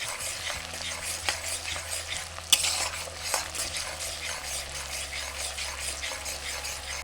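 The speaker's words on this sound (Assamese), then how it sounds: "পিঁয়াজটোৰ পৰা ভাজিম" Onions frying for duck curry, a steady sizzle in a pan with a utensil scraping and stirring through it, occasional sharper knocks against the metal, no voices.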